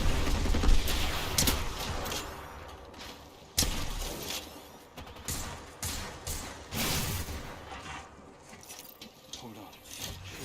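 Bursts of video game gunfire, rapid shots and sharp impacts, with a loud crack near the middle, under talk from players in a team shooter match.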